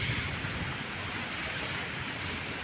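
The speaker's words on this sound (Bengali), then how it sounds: "সকাল থেকে বৃষ্টি হয়ে যাচ্ছে" Steady rain falling outside a home on a wet day, a soft even wash of noise that holds throughout at low level, with no voices.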